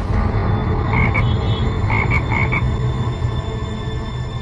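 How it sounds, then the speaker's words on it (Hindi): A large African frog croaks in a series of short, loud, close calls, several in quick succession over a steady rumbling background, with no voices. "आज मैं आपको एक ऐसा मेढक दिखाने वाला हूँ जो कि अफ्रीका के जंगलों में पाया जाता है"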